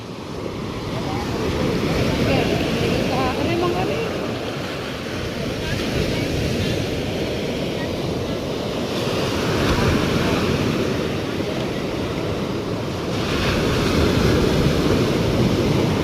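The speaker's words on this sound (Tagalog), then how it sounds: "medyo may alon pa rin, malakas pa rin yung alon" Strong sea waves wash in steady, broad surges with wind buffeting the microphone, a constant roar that swells and eases over the stretch; occasional faint voices sit under the noise.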